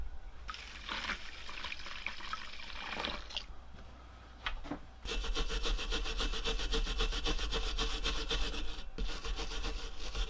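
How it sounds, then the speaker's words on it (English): A motor shaft keyway on a vintage carnival ride motor being scraped clean with a tool, a steady close rasping scrub with intermittent strokes at first, then continuous rapid rubbing for the second half. "I'm cleaning this keyway out just for thoroughness."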